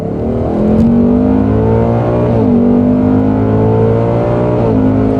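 A 2024 Ford Mustang Dark Horse engine pulls hard toward its roughly 7,500 rpm redline, the tone climbing steadily, dipping briefly at a smooth gearshift, then rising again, loud and close from inside the car.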